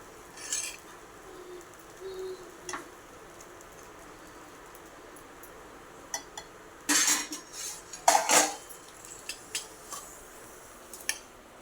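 Spoon scraping and clinking against a plate while serving freshly cooked kande pohe (flattened rice with onion), a few brief metallic taps and scrapes in bursts, near and clear, with faint background birdsong and no talking.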